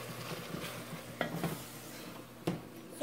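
Tomatoes with onions, garlic and ginger cooking on high heat in a pot for Ghana jollof rice, a quiet bubbling sizzle broken by a few spoon stirs and scrapes, with no talking.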